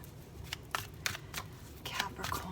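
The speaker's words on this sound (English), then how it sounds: "One more shuffle, and I think we're good." Tarot cards are shuffled by hand in a concrete building, giving a string of quick, crisp card slaps and riffles over a low background rumble.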